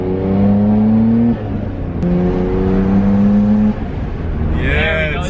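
A Nissan R32 GTR fitted with Blitz twin blow-off valves pulls hard through the gears, loud engine tones climbing, dropping at each shift, then a sharp rising whoosh-flutter near the end as the throttle lifts.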